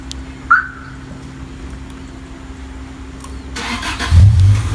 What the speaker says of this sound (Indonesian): Ketika kita start dari jarak jauh seperti ini ya, mobil akan hidup mesinnya.